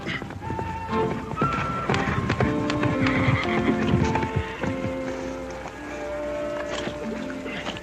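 A horse whinnies over steady clip-clopping hooves, with busy outdoor background noise and a faint splash of water.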